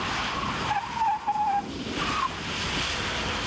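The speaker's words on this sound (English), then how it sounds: "Okay, the car's already in the spin." A car spinning on a skid pad after a handbrake pull, with a sustained tyre-skid roar and brief higher squeals across the spin, no talking.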